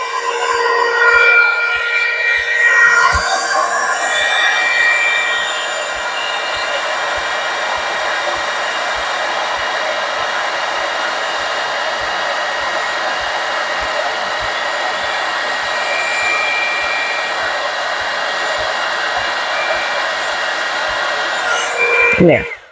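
Loud, continuous whirring blow of a heat embossing gun running close by over a heavy card for the full duration, a steady motor drone with a high whine.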